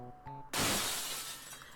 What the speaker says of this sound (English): Heard the window shatter as I was shoved from the second floor.